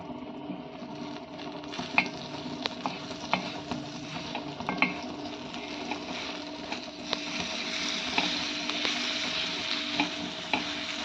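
Pav bread roasts on a busy griddle for dhaba-style pav bhaji, a continuous moderate sizzle and frying hiss with scattered clicks and scraping. No talk.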